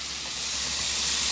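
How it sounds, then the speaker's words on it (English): Finely minced onion hits a hot pan with browned kielbasa for Southern shrimp and grits, giving a steady, broad sizzling hiss that swells slightly and holds close and even, with no talking. "we're going to add in our finely minced onion"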